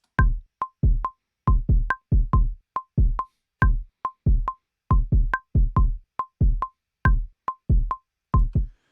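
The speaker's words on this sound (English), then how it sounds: "the kick pattern sounds like this" A soloed kick drum from a hip-hop beat plays alone, punchy booming hits in a syncopated, repeating pattern with short clean gaps between groups of strikes.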